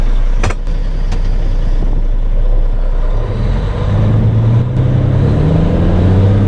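A vehicle pulls off slowly in low gear with the clutch eased out and no throttle, a loud steady engine drone that holds close and rises slightly in pitch as it creeps forward.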